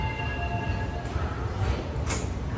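The Nilgiri Express sleeper train pulls out of Chennai, a faint low rumble of rolling wagons with soft rail noise and a brief metallic hiss partway through.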